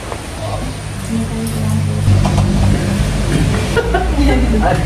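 Heavy rain pours steadily with a constant broadband hiss throughout, growing slightly louder midway, while people talk close by over it.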